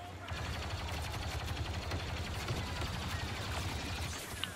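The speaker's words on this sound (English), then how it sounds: "People are shooting at me." Sustained gunfire from a Star Wars Battlefront 2 battle, rapid continuous blaster-style shots forming a dense steady roar with no pauses.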